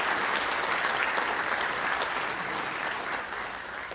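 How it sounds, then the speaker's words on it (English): An audience at a Hall of Fame ceremony claps steadily throughout, a thick even wash of many hands at moderate volume that eases slightly near the end. "Please join me in applauding them"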